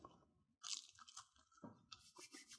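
Crunchy baked zucchini chips being chewed up close: a sharp crunchy bite followed by several moist, crackling chews, soft overall and without speech.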